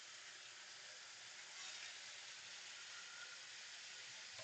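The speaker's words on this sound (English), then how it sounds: "we're gonna sear these off, right? We're gonna sear them off on all sides" Oxtails sear in a hot pan, giving a steady, even sizzle and hiss that stays constant and fairly faint, with no talk over it.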